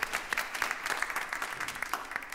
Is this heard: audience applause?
yes